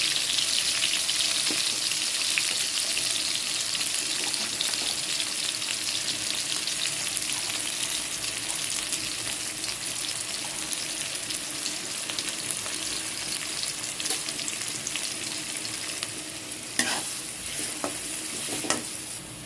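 A large onion fries in hot oil with fennel seeds and cinnamon, giving a continuous close sizzle with occasional stirring scrapes throughout and no talking.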